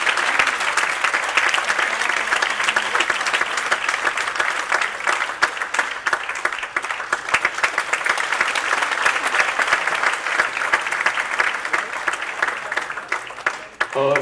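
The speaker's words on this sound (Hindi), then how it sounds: "आप ताली बजाएं शर्मा जी का।" A large audience claps continuously and densely at a live charity concert to raise funds for medical aid. The applause holds at a loud, steady level for the whole stretch, and faint crowd noise mixes in.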